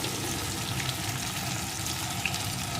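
Pieces of taro sizzle and fry in a pan with oil while cooking for a hilsa fish head curry, a steady close crackling hiss without talk.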